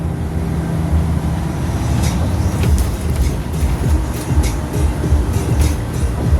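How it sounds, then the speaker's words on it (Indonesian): Inside the cabin of an ALS 171 Super Executive bus on the road, a steady low engine and road rumble with air-conditioning hiss continues throughout, marked by occasional light rattles and clicks. "lagi menikmati suasana di dalam kabin bis ALS 171"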